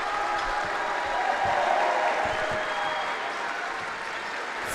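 Basketball crowd at a boys' regional final, a dense steady roar of cheering and clapping from a packed gym that swells slightly midway and holds through the final seconds of the game.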